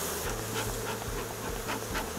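Honey bees at an open hive during honey harvesting make a steady, dense buzzing drone close by, with a low pulsing hum running under it and no talk.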